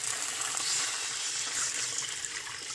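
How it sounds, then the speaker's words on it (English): Three cups of water hiss and sizzle as they pour into a hot pan for chicken farfalle pasta primavera, a steady bright rush with no talking. "And then we're going to add the water."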